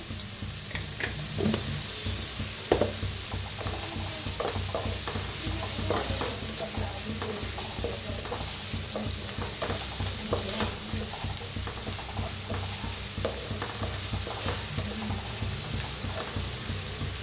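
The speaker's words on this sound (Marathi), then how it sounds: "मीठ टाकायचं म्हणजे कांदा लगेच लाल कलर होतोय. छान भाजला जातोय." Chopped onion with salt fries in a pan for a spicy green-masala egg curry, a steady close sizzle broken by frequent scraping stirs for the whole stretch, with no voices.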